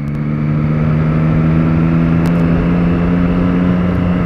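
An old, crooked car drives close by on a Curitiba street, its engine giving a loud, steady, droning hum with a constant whir for the whole moment.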